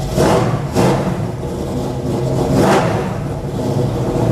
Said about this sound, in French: On l'entend tout de suite que c'est un moteur qui a des watts.